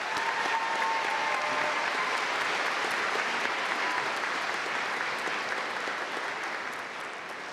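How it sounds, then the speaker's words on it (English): Steady, dense applause from a large commencement audience fills the hall continuously, loud and even before easing slightly toward the end, with no speech over it. "Please give them a round of applause as well."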